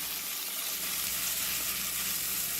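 Steak sears in a pan with a loud, steady, unbroken sizzle from start to finish, close up and free of any voices.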